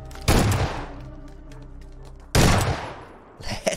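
Two loud, close bursts from a Vector submachine gun in a pistol-and-shotgun-only first-person shooter match, each a dense crack of rapid shots, separated by a quieter stretch of lingering game noise.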